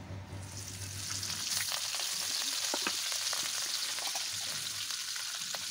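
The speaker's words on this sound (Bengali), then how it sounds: "রুই মাছটা প্রথমে আমি লাল লাল করে ভাজা করে নেব" Steady crackling sizzle of rohu fish frying in hot oil, continuous and fairly quiet, with scattered pops and no talking.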